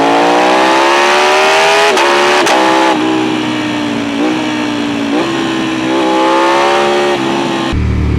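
A Ducati Panigale V4 Speciale sportbike rides past at full throttle, its engine screaming up through the gears with sharp rising pitch, quick shift cuts and a loud, continuous howl close to the listener.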